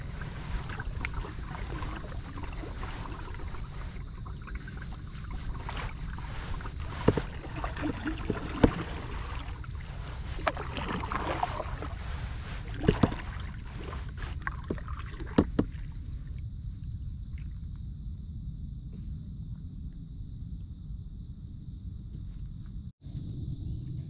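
A kayak paddled across floodwater over what would normally be land at sunrise, with steady low water wash and soft paddle dips, faint wind and scattered small splashes, no voices.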